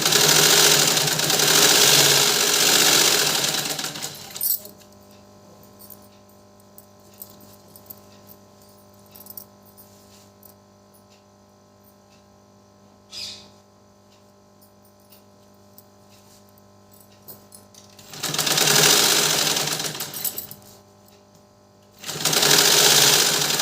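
A sewing machine stitches two-colour fabric for a salwar suit in loud, steady runs at the start and again near the end, with a quiet hum and faint clicks between bursts; no one speaks.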